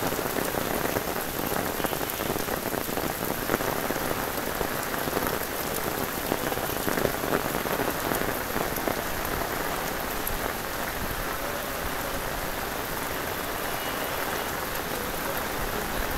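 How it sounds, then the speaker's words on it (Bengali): Torrential rain pours down outdoors and pools into standing water. It makes a loud, unbroken hiss that stays the same for the whole stretch, with no voices. "আজকে হচ্ছে প্রচন্ড পরিমাণ হচ্ছে বৃষ্টি নামছে"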